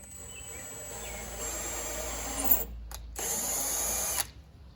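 A handheld drill spins a thread repair tool, loosely chucked, in a lawn mower carburetor, a steady whirring hum that rises, cuts out briefly, then resumes before stopping.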